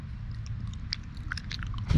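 Close crunchy biting and chewing of a snack in quiet surroundings, with repeated crisp bites and a louder crunch at the end.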